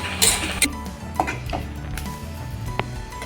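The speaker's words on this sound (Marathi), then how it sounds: "हे आता आपण भाजून घेऊ छान." Ladoo ingredients are dry-roasted over low heat and stirred in a pan. A utensil scrapes and clinks against the metal in irregular strokes, close and fairly loud, with no talk.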